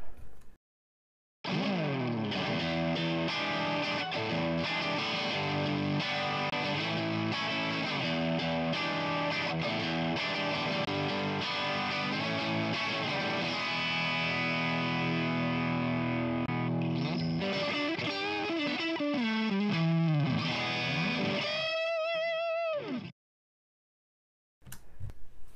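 Distorted electric guitar through an effects unit, in a comparison of guitar body woods, with chords ringing loud and sustained for about twenty seconds before a fading bend and a cut to silence.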